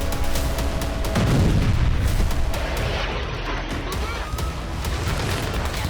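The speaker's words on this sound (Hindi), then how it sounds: "इजरायल सीरिया और लेबनान से लगी सीमा पर बमबारी कर रहा है" Israeli bombardment along the Syria–Lebanon border produces a dense, continuous rumble of distant blasts and crackling booms, with a heavier thump near the start, all blended into a noisy wash.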